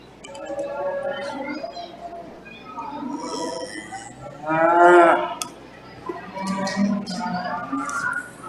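Cattle heifers at a livestock show lowing in several separate moos, one loud and close near the middle, with a faint announcer-style voice and arena murmur in the background.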